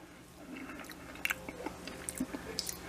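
Close biting and chewing of rehydrated freeze-dried spaghetti squash with meat sauce, a run of soft crunchy bites and wet mastication clicks over a few seconds, with no talking.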